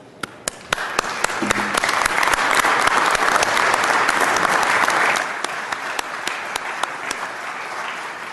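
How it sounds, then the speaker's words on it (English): A round of applause fills the Utah House chamber during a legislative floor session, dense steady clapping from many people sustained for several seconds, close and loud, gradually easing toward the end. "applause."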